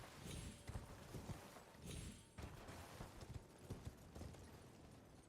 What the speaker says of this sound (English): It's a horse called Torrent in the game.